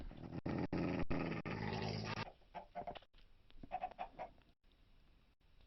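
Wolf mob attacking a player in Minecraft on a multiplayer server: growls and barks in short bursts, mixed with clipped game sound effects, loud at first and then sparser.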